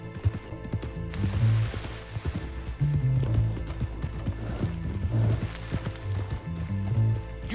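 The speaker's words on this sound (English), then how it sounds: "What I'd give for a horse as fine as that." A horse's hooves clip-clop in the video game Red Dead Online, a steady, close run of hoof strikes over several seconds with a brief whinny and a loud, busy ambient backdrop.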